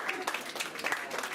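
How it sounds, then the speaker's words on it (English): Brief burst of applause from a crowd at a hypnotist show, steady clapping throughout with a voice speaking over it. "give him a round of applause"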